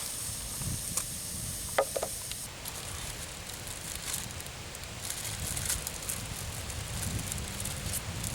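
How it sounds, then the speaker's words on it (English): Stirring a Backpacker's Pantry huevos rancheros meal in its pouch, with soft crinkly rustling and a few light scrapes, steady and faint at close range. "we're going to stir it up with the cup we got in there"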